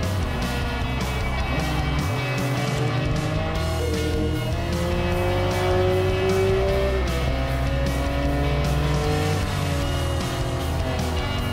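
A race car in a racing video game holds a constant, loud engine drone through a qualifying lap, its pitch climbing and dipping as it accelerates and brakes for corners, with no talk.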